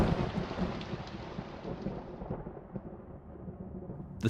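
Thunderstorm with steady heavy rain, rumbling thunder rolling through continuously at close range for the whole stretch, loud and broadband with no voices.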